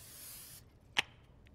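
Cooking spray hisses from an aerosol can into a casserole dish in a kitchen: a soft, steady spray runs for about half a second, followed by a sharp click and a faint tap.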